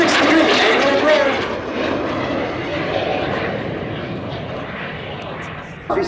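Red Arrows jets at an airshow at Duxford pass low in close formation at high closing speed, a loud broadband roar that peaks early, then fades steadily while staying strong for several seconds, with a voice talking over it.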